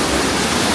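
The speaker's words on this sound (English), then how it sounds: "Beautiful cascading water park." Cascading water splashes steadily at a themed water park playground in Camp Jurassic at Islands of Adventure, a continuous broadband rush that stays even and close for the whole moment, with no voices.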